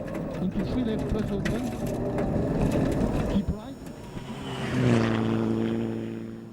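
Onboard a rally car at Rally de Portugal 2009, the engine droning close and rough with revs climbing near the end, heard under a commentator's voice.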